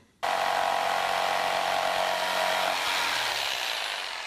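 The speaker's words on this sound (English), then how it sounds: "And then I can cut it out with a jigsaw." Bosch handheld jigsaw cutting through wood for a TV cabinet: a loud, close, steady buzzing saw whine starts abruptly and runs for about four seconds, its pitch shifting near the end before the cut tails off.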